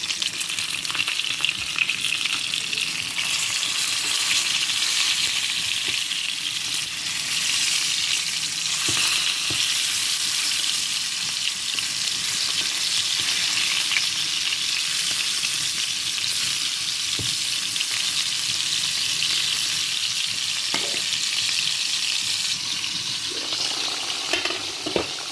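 Steady, loud sizzle of chicken frying in a pan fills the whole stretch, a dense hiss with occasional pops and stirring clatter, no voices.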